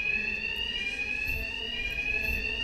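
A continuous electronic alarm rings loudly and steadily in Batman Arkham Knight, a high piercing tone with a low rumble underneath, never pausing.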